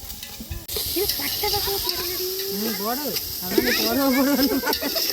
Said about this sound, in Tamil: பூண்டு இஞ்சி எல்லாத்தையும் வதக்கிட்டு அதுக்கப்புறமா எல்லாமே நல்லா வதங்கட்டும்